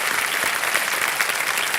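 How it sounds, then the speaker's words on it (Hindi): A studio audience at a game show applauds to welcome a contestant, a dense, steady wash of clapping throughout with no break. "एक बार फिर तालियों के साथ हम आपका स्वागत करते"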